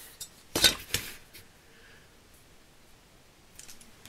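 Scissors snipping paper for a Christmas scrapbook album page, a few quiet close crisp snips clustered together, then near silence and a couple of faint snips at the end.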